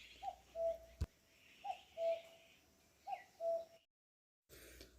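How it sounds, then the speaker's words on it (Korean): Cuckoo calling in early summer countryside, a repeated two-note coo heard three times at an even pace, moderately distant over a quiet rural background, with a brief sharp knock and a short gap of silence. "뻐꾸기 소리 참 오래간만에 듣습니다"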